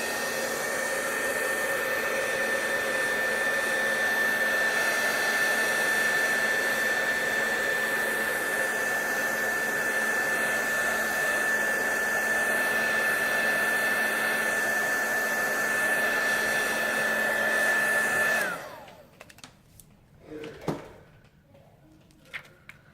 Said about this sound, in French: maintenant on le sèche avec l'embosseur technique